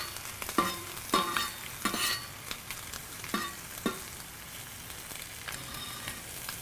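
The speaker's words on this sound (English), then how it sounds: "you can see right here the onions, they're just gently cooking" Onions gently cooking on a griddle while a smashburger is made, with a soft, steady sizzle and several sharp scraping or stirring clatters from a utensil on the metal surface.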